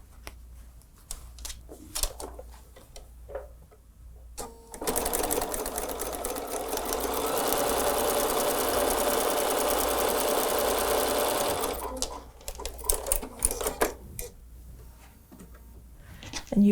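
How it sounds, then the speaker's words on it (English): A sewing machine runs a quarter-inch seam on a fabric table runner. It makes one continuous rapid stitching whir of about seven seconds, with quiet fabric handling and clicks before and after. "Let's sew that 1/4 inch seam."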